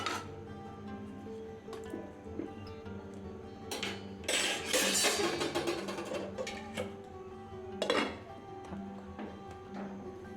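A wok being set on a gas stove to fry fish gives a few clanks and rattles of metal cookware, fairly quiet and spread over several seconds.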